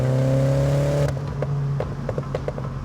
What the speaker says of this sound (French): moi j'adore cette petite pétarade, ça c'est typique de cette Mini quand on met le mode sport